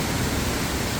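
A flowing stream of water exiting from beneath a road and running down through bamboo, a loud, close, unbroken rushing hiss.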